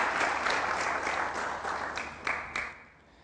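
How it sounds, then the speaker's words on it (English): An audience applauds steadily for a woman being welcomed at a public event, with a few sharper claps near the end before the clapping trails off. "Please, a round of applause for Mrs. Tilewa"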